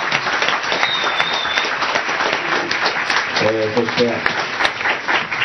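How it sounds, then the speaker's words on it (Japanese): A studio audience at a 15th-anniversary show featuring Tamori keeps up lively applause, with someone talking over the clapping and a brief melodic voice partway through. "大きな拍手、 ありがとうございました。"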